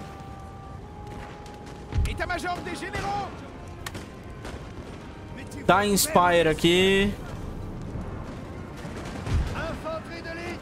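Cannon and musket fire crack and thud in scattered bursts during a Napoleonic battle in the strategy game Napoleon: Total War, with someone talking in Portuguese over the distant-sounding volleys.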